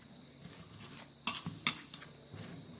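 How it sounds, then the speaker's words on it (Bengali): Pepper, salt and oil being mixed by hand in a bowl for pasta dough, with a few soft clinks and scraping strokes over quiet room noise. "একদম প্রথমে আমি এই গোলমরিচ, নুন আর তেলটাকে একটু ভালো করে মিশিয়ে নিচ্ছি।"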